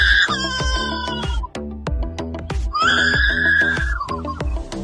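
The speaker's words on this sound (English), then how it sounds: "This is a lyrebird." A lyrebird gives loud, varied calls with a crowing, rooster-like quality, two long strained cries separated by clucking bursts, up close with no talking.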